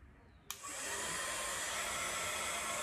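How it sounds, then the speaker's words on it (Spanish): A Sizzix embossing heat gun switches on with a sharp click and then blows a loud, steady airy roar while drying watercolor paint on a journal page. "Podemos secarlo ya sea con las pistolas que utilizamos para hacer embossing"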